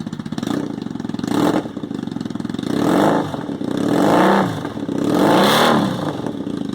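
A 2007 Triumph Bonneville motorcycle fitted with a D&D exhaust runs close by, its engine alternating between a steady idle and several swelling revs that rise and fall.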